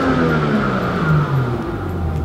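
A BMW F87 M2 engine runs at steady revs near 4,000 rpm, giving a continuous loud, close mechanical drone with a slight waver in pitch and no speech over it.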